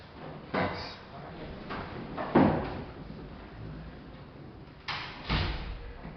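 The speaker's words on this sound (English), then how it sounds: "Can you close that door?" A door is pushed shut in a room during a maths lesson, giving a few soft thumps and knocks spread across several seconds, with faint background talk.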